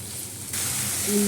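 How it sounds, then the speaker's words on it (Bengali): Onion frying in a pan for a leafy greens dish, a steady hiss that jumps louder halfway through as the pieces hit the hot oil, with a faint hum of voice or tone near the end. "পেঁয়াজটা একটু ভাজাবো।"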